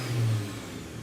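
A Toyota RAV4 engine on a dyno idles and then revs up, with a steady, close mid-pitched engine drone that swells briefly and then settles back down.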